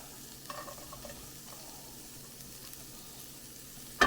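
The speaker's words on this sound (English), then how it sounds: "So at this point, I'm going to go ahead and add the garlic" Garlic goes into a pan of softened onions and is stirred, giving a quiet, steady sizzle with scattered scraping clicks and a sharper clatter at the end.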